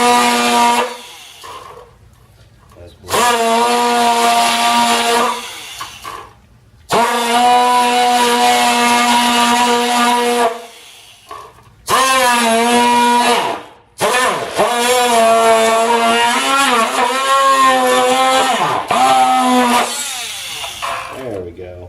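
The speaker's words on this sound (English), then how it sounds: "I'm using just a Ryobi hand cutter, a plunge cutter here." A Ryobi handheld plunge cutter bites into a plastic 3D printer cartridge, giving loud, close, whining bursts of cutting that start and stop repeatedly, with the pitch wavering as the blade bogs and frees.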